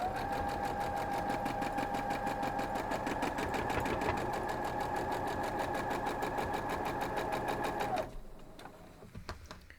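A sewing machine stitches quilt block pieces together in a steady, fast mechanical whir with a regular needle rhythm, running close and loud for about eight seconds before stopping abruptly, leaving faint handling noise.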